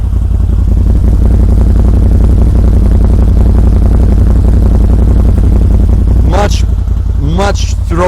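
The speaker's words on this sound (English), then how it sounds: "Oh, I love the exhaust note." A 2021 CFMOTO Z950 motorcycle idles loud and close, its exhaust giving a steady, throaty pulsing note. A voice talks briefly over it near the end.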